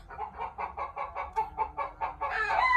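Chickens cluck close by at a chicken coop on a cold morning, giving a run of about a dozen regular, rhythmic clucks that swell into a louder, busier squawk at the end.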